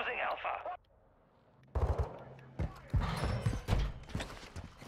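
Gunfire in the video game Call of Duty: Modern Warfare II during a Search and Destroy match: after a brief tone and a quiet gap, loud close bursts of rapid shots and impacts crackle in uneven clusters.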